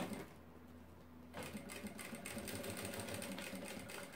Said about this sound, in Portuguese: Com meio pé de máquina, só uma costura de segurança, tá?